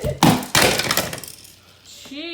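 A toy plane crashes amid play with toy monster trucks and planes, giving two loud clattering impacts with a glassy, clinking rattle that fades to a quieter tail, with children's voices nearby.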